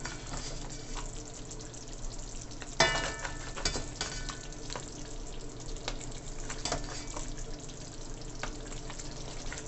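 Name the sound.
curry crab with coconut milk simmering in a pot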